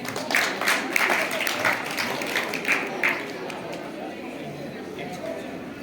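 Audience at a junior-level Gita Jayanti quiz competition breaks into a short round of rhythmic clapping that fades after a few seconds into room chatter and a speaking voice.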